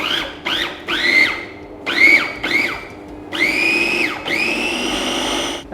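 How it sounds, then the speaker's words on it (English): Kitchen blender pulsing doubles batter in short bursts, whining up and cutting off several times before two longer continuous runs, close and alone. "And then we blend it."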